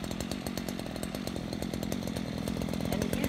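A Stihl FS94R gas string trimmer runs with its variable speed control, a continuous buzzing two-stroke engine drone with a rapid pulsing rhythm, loud and close, no voices.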